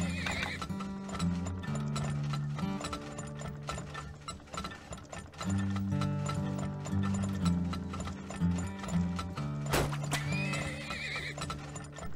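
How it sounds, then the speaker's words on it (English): Horses neigh and hooves clop in the oil-drilling sim game Turmoil, layered over steady game music and clicking, ratcheting mechanical effects, with a loud whinny standing out near the end. "we need a couple more horses"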